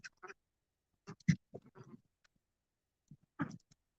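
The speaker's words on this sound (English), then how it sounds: "They look like mallard ducks, Mama." Mallard ducks at a backyard pond, two drakes and two hens, giving bursts of nasal quacks in a few scattered groups with quiet gaps between, heard alone.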